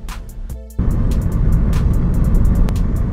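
A car rolls to a stop at a boat ramp in New Zealand, with a steady, loud engine and road rumble inside the vehicle that jumps up in level partway through and continues without talk.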